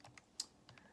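Quick light key presses on a calculator, about five or six soft clicks in a short irregular burst, close and faint with no talking.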